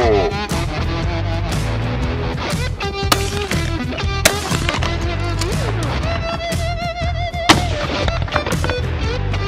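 Shotgun blasts ring out repeatedly during a dove hunt in Yuma, Arizona, sharp and loud reports scattered among outdoor noise and people talking.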